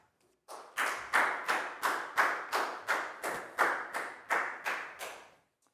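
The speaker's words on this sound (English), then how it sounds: "a big round of applause" A Year 4 maths class gives a round of claps, about a dozen evenly spaced sharp hand claps in a steady rhythm, fairly close and alone without talk.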